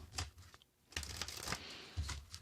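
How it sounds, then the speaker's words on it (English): A few quick riffling bursts of playing cards being shuffled, close and crisp, with short pauses between them. "Another shuffle, they say."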